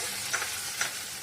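Vegetable khichdi is stirred in a pan just after the tempering goes in, with a steady low sizzle and two soft scraping strokes of the spoon, close by and fairly quiet.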